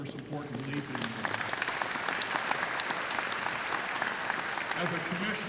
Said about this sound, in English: A round of applause for their support and belief in you.